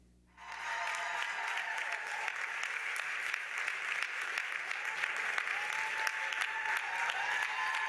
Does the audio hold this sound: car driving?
no